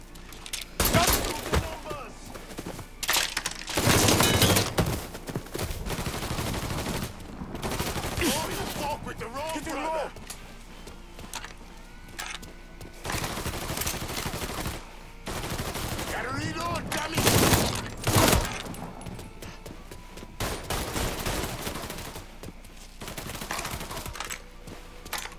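Gunfire in the video game Mafia 3 crackles in loud, dense bursts of rapid shots with brief lulls between volleys, close and continuous across the stretch, with some glass-like shattering mixed in.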